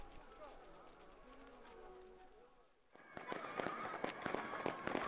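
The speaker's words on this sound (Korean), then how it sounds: "강계광장에서는 불꽃놀이가 진행돼서 명절 분위기를 더욱더 고조시켰습니다" A fireworks display in Kanggye Square during a holiday celebration, heard as a quick run of sharp crackling bursts and pops after a softer murmuring lead-in, moderately loud and fairly distant.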